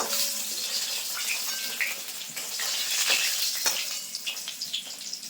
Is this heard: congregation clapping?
no